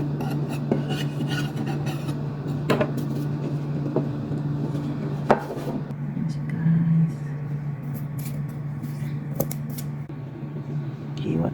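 A knife slices through a freshly baked marble cupcake with soft, rasping cuts and light rubbing close by, under a steady low hum and a few clicks.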